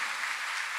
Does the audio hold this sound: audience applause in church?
yes